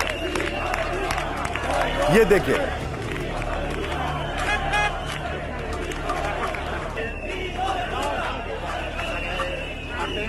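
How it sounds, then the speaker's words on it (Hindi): Dense protest crowd noise with shouting and babble surrounds a meeting between the German chancellor Scholz and the Spanish prime minister, loud and continuous, with a voice speaking briefly over it. "जब शोल्स और स्पेनिश पीएम बात कर रहे हैं तो आवाजें आ रही हैं पीछे प्रदर्शन की"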